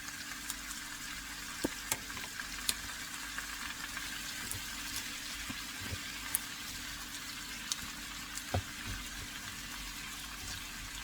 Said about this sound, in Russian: И будем забрасывать, ребята, наши обалденные помидоры